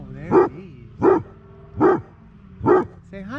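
A puppy gives four short, evenly spaced barks, close and fairly loud, over a quiet low hum.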